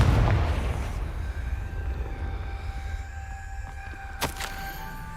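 A Confringo blasting spell explodes in the video game Hogwarts Legacy: a loud, deep boom that opens the clip and rumbles away over several seconds, followed by a brief sharp crackle near the end.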